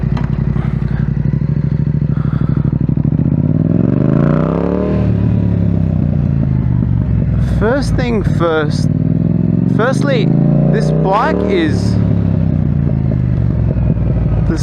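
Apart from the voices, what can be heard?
Yamaha MT-07 motorcycle with Akrapovic exhaust riding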